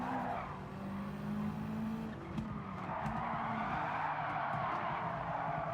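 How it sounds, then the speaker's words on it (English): Tire squeal from locked brakes on a race car in Gran Turismo 7, a sustained screech over engine noise, fading after about two seconds into steady car sound. "They lock the brakes up there a little bit."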